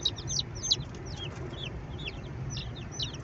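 Newly bought chicks peeping in a steady stream of high, rapid chirps over a low rumbling background, close and continuous.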